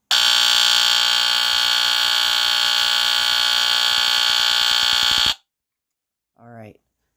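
A NuTone-Scovill S-191 smoke detector blares a loud, continuous pulsing electronic alarm tone for about five seconds before cutting off abruptly, followed by silence and a brief spoken word.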